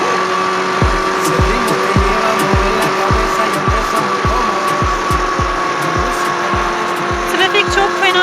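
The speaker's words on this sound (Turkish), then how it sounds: "Atladık, motorumuzda birazcık geziyoruz." A Kawasaki ZX636 motorcycle rides through traffic, its engine droning loud and close, with a steady run of repeated low thumps and wind rush.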